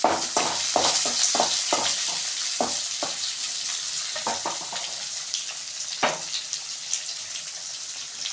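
Onions sizzling and sautéing in a hot pan for a Tamil chicken varuval, a steady frying hiss broken by bursts of crackle and scraping as they are stirred, with no talking.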